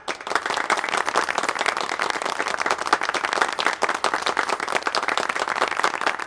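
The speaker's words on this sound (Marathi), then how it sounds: "त्यांच्यासाठी एकदा जोरदार टाळ्या झाल्या पाहिजेत." An audience applauds at an award ceremony, dense sustained clapping from many hands that stays loud and steady throughout, with no speech over it.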